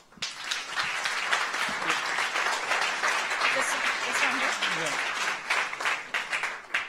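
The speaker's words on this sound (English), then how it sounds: "Give her an applause." Audience at a blockchain meetup in Berlin claps steadily for a few seconds as the next speaker, a marketing manager, is welcomed, a dense, sustained applause from a room of listeners.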